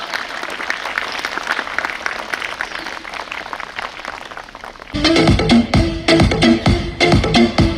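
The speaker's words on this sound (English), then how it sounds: "Please welcome them with a big round of applause." An audience at a school Republic Day celebration breaks into a broad, steady round of applause that fills the space, then gives way to louder, rhythmic music with a pulsing beat.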